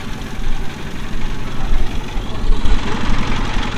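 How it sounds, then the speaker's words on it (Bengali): A river boat's motor on the Padma near Jalangi chugs at a low, steady idle, loud and close with a rough rhythmic rumble throughout. "ফাইনালি নৌকা স্টার্ট করে দিল"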